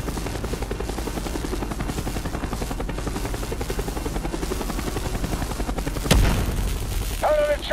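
Helicopter rotor chopping in Call of Duty: Black Ops, a steady loud drone through the whole stretch amid game battle noise, with a sharp boom near the end followed by a brief high tone.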